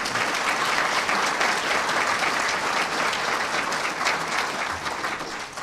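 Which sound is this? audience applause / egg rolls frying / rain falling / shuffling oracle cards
audience applause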